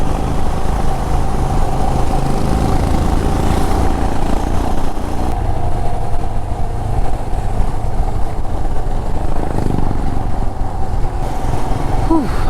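A Royal Enfield Himalayan BS6 motorcycle ridden up a winding ghat section, a continuous loud engine drone mixed with rushing wind noise.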